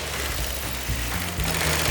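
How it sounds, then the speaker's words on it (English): Big industrial sewing machine stitching PVC trampoline panels, a steady motor-like drone with shifting low tones running throughout, fairly loud and close with no voices. "And can you hear the sound of the sewing machine?"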